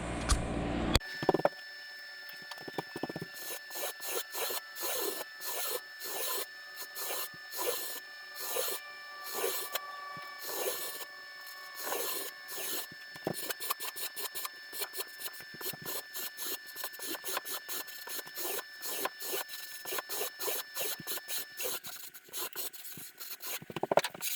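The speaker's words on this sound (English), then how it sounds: "I'll go ahead and shave this bottom corner off on both sides" Shaping tool shaving the rail corner of a surfboard blank, with long runs of steady rasping strokes repeating close up and alone, irregular in pace, against a faint constant hum.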